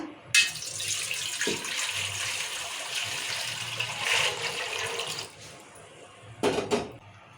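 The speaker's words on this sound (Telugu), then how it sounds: "వాటి ఇలా వాటర్ పోస్తున్నా" Water pours into a cooking pot on a stove, a steady splashing rush for several seconds, then a brief clatter of the vessel near the end; close by, with no talking.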